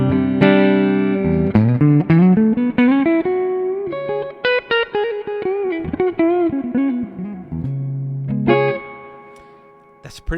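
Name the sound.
clean guitar tone from a Victory V140 amp captured on a Kemper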